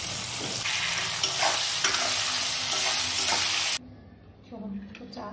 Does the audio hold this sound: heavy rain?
no